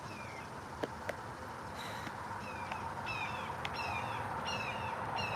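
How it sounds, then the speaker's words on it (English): Faint bird calls repeat over a steady outdoor hiss, a few short chirps scattered through the quiet background. "When the bird starts chirping"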